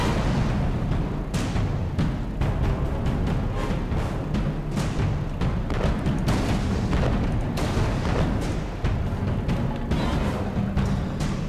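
Continuous booming gunfire and explosions from the fish-shooting minigame in Alice: Madness Returns, with dense, loud bursts layered over a steady rumble throughout.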